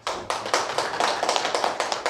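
A small group at a Bareunmirae Party leadership meeting applauds committee chair Kim Kyung-min, crisp overlapping hand claps in a brief, steady burst at moderate volume.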